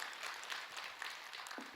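Audience applause at a Buddhist monk's Q&A talk session, a steady, fairly faint wash of clapping throughout the short stretch with no voices over it.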